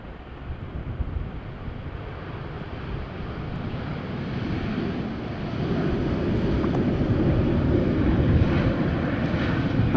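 An Embraer 190 airliner arriving in strong crosswind at Amsterdam Schiphol Airport after a storm, a distant steady engine roar mixed with heavy wind rumble that grows slightly louder and fuller over the clip.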